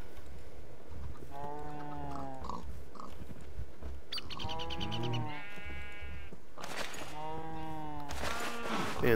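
Cows in Minecraft with the Harkenscythe modpack, several drawn-out bleating animal calls in separate bursts over a low background hum, clear and fairly close.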